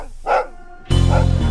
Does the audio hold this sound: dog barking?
yes